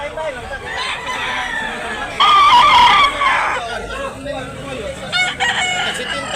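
Roosters at a market in Tabunok, Talisay, Cebu, crowing and clucking at close range amid steady crowd noise, with one louder crow standing out in the middle.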